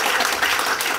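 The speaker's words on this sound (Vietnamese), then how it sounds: "cho tràng pháo tay thật lớn" A workshop audience gives a brief, thick burst of applause for a guest photographer. The clapping is continuous and fairly loud, with no speech over it.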